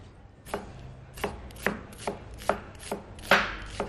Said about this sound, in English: I just need to chop these very roughly